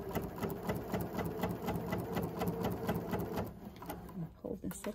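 Sewing machine with a straight stitch plate running steadily as it stitches quilt block triangles for a 1930s sampler, a fast, close, even rhythm of needle strokes that slows and stops near the end, with a voice speaking over it.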